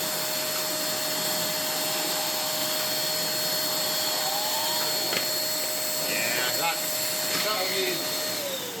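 A V-Tough Mini vacuum cleaner motor runs with a steady whining hum and whooshing airflow, a thin high tone throughout, while a person talks over it.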